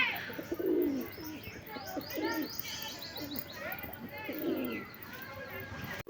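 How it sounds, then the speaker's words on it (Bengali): Pigeons coo in repeated low, throaty bursts at dusk after bathing, close and fairly loud, with some higher chirps mixed in. "তো বন্ধুরা দেখতেই পাচ্ছ পায়রাগুলো চান করছিল"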